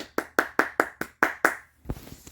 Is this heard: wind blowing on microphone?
no